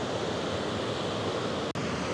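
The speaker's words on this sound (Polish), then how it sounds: "No robi wrażenie ten wodospad" A wide waterfall in Bavaria carrying a lot of water, a steady, dense rushing roar heard close and continuous, with one brief dropout near the end.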